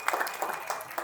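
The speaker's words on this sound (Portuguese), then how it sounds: "Vamos aplaudir ao Senhor" Church congregation applauding at a birthday celebration service for their pastor, a steady wash of hand clapping across the short moment, moderately loud and even throughout.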